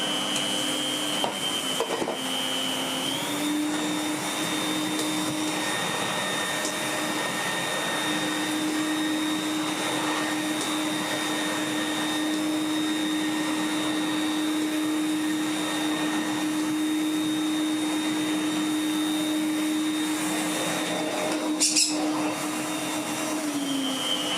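A corded vacuum cleaner runs steadily throughout, a loud constant whine with a high motor tone that shifts pitch slightly a few times, heard alone.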